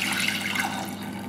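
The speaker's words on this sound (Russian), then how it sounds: "Бульон отправляю в сотейник," Broth pours steadily into a saucepan and splashes for a moment at close range, a continuous watery rush with no talking.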